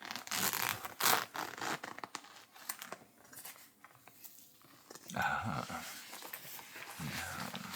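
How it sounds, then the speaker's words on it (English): A zipper on a Sony camera lens package being drawn open in uneven scratchy pulls, close and fairly quiet, mixed with rustling and crinkling. "And then the zip."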